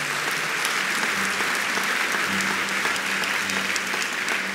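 A church congregation applauds during a pastor's sermon, a steady, full clapping that holds at an even level throughout, with a low hum faintly under it.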